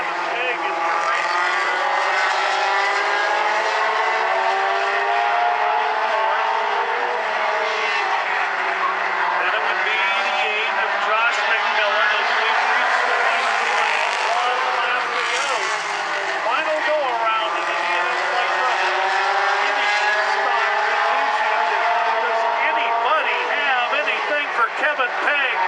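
Mini stock race cars roaring around South Sound Speedway, a steady loud drone of engines rising and falling as the pack circles, with an announcer talking throughout over the track noise.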